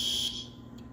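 A fire alarm going off, a shrill high-pitched electronic tone sounding loudly for a moment before dropping away, leaving a low hum and a faint brief blip near the end.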